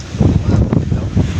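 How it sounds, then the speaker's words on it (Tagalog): Sea waves surging and splashing against a pier at high tide, a rough, broadband wash with a few heavier surges, wind buffeting the microphone throughout. "Talsik ng alon."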